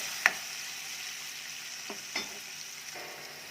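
Onion and tomato fry in a pan, a soft steady sizzle with a few brief clinks and scrapes of a spoon, close but fairly quiet, with no talking.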